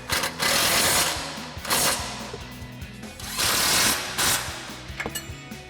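An impact wrench fitted with an 18 mm socket tightens suspension bolts on an F-150 in loud rattling bursts, about four hammering runs separated by short pauses.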